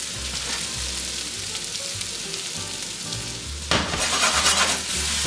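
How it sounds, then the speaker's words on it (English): Garlic, shallots and mushrooms sizzle loudly and steadily in a pan with rendered pancetta fat, a dense frying hiss that swells near the end as the food is stirred, with no talking. "You hear the sizzle?"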